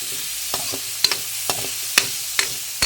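Chicken pieces browning in a frying pan, a steady low sizzle broken by about six sharp clinks and scrapes of a utensil stirring at a fairly regular rhythm, close and clear with no talking.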